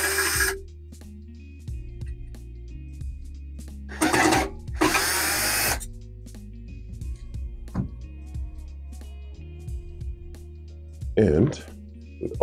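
A power screwdriver backs out two screws from the control board cover of an ElphaPex DG-1 crypto miner, two short whirring bursts close by over a low steady hum, with a voice talking in between.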